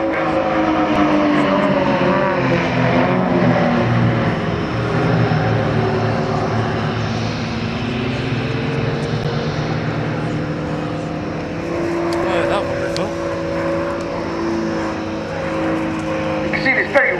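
Aerobatic propeller aircraft of the Royal Jordanian Falcons fly a display at RAF Waddington, a loud, steady engine drone that rises and falls in pitch as they maneuver, with an announcer talking over it.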